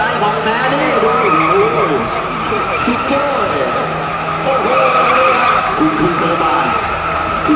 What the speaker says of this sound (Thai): สังเกตนะครับว่า ล้อหลังยังเบิร์นอยู่นะครับ